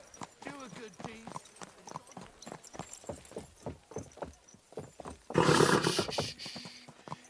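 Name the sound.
horse hooves clip-clop in video game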